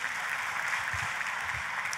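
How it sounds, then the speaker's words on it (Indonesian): A church congregation applauds together, a steady, diffuse wash of clapping heard at a moderate distance, fairly quiet and continuous, with no voices over it. "Tepuk tangannya yang paling meriah buat Tuhan kita."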